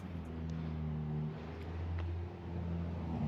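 Rented Toyota Corolla GT2 RS with a low, steady engine hum and a faint rise in revs, heard close with some road noise and no talk.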